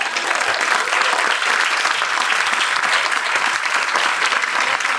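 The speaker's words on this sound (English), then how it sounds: "everybody to give him a round of applause as he comes up" Loud, sustained applause fills the hall at an NAACP Freedom Fund dinner, a dense, steady roar of many hands clapping without letup as a guest comes up.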